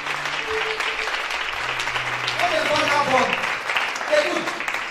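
A church audience at a deliverance service applauds loudly, with steady clapping and a few cheers that run the whole time under a preacher's raised voice.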